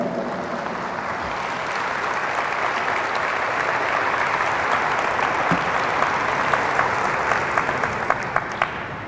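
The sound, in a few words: congregation applause at a church sermon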